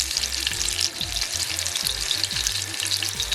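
Anchar masala and a cup of curry fry in hot oil on a coal pot stove, a steady close sizzle with soft stirring scrapes and a low hum underneath.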